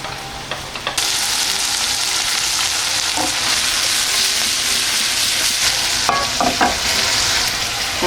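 Onions and chorizo frying in olive oil with peas for a pasta sauce, a steady dense sizzle with occasional stirring clatter, close and continuous, no talk.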